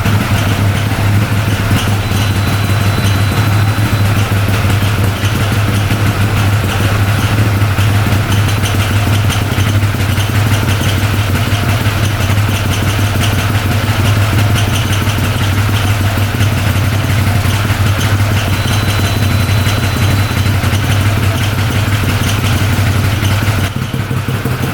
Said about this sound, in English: Idling at like 1300. Still burning off some old oil.